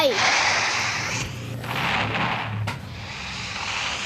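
Explosions and gunfire in a Roblox team battle come as loud, rough bursts of noise that swell and fade in quick succession, with one sharp crack near the end.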